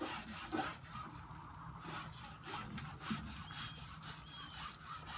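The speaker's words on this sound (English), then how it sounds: "You gotta scrub real good." Hard scrubbing on a fiberglass and resin surface coated with a white film deposit, a continuous rough rasping that surges back and forth in strokes about a second apart, close and fairly loud.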